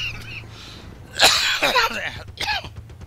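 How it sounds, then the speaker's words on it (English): A person coughs several times in quick, harsh bursts, close to the microphone, over a faint background hum during an online Battlefield 1943 match. "And there was another lung that I just coughed up."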